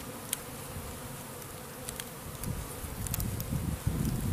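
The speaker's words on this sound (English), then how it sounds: "I love bees though." A swarm of honey bees in April hums in a dense, continuous buzz close by, with individual bees zipping past now and then and the drone swelling slightly toward the end.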